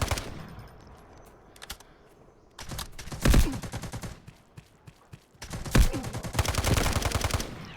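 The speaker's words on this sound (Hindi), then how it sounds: "यहाँ पे देखना गोलियां तो चल रहा है" Gunfire in the shooter game Delta Force comes in sharp bursts of rapid automatic fire, loud and close, separated by quieter stretches of low rumble.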